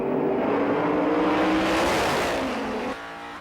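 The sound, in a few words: V8 modified saloon race cars accelerating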